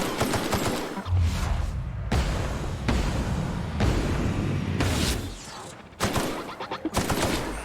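Combat in The Outer Worlds video game: sustained bursts of weapon fire with booming impacts, loud and close, broken by short gaps between volleys.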